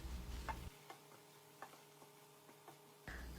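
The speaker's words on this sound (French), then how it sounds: "Je vais faire revenir mes légumes pendant une quinzaine de minutes" Vegetables with tomatoes sautéing in a pan, a faint low sizzle with a few soft, scattered clicks of stirring, quiet and close, no voices.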